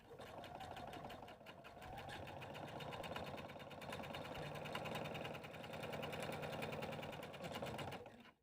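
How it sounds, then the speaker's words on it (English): A sewing machine runs steadily for about eight seconds, stitching the pinched corner seams of a fabric tissue cover, its rapid needle chatter continuous and fairly loud with only a brief slowdown near the start. "We are simply going to pinch our corners together and sew our seams"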